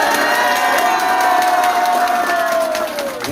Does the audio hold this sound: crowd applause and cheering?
yes